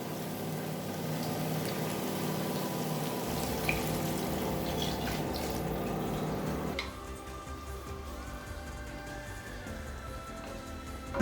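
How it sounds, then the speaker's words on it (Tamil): Coconut milk pours steadily into a pot for brinji rice, a continuous close liquid rush that cuts off abruptly partway through, leaving a quieter background hum. "அடுத்தது 3 கப் தேங்காய் பால் சேர்த்துக்கலாம்."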